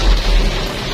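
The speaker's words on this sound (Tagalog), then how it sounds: "Makita, lakas ng ulan." Heavy rain pouring down in Manila during a typhoon, a dense, steady broadband hiss with low rumbling, loud and continuous across the whole moment with no talk.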